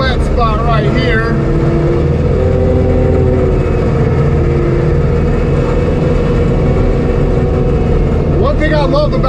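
An ASV tracked machine pulling a Mega Mower X drones steadily and loudly as it cuts through tall wet grass, with a voice heard briefly at the start and end.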